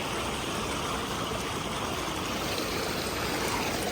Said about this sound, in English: I'm trying to get to that little waterfall.